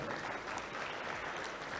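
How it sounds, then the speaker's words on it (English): A crowd at an awards ceremony applauds business leaders, a brief, dense, even wash of many hands clapping at a moderate level. "Let's clap for them."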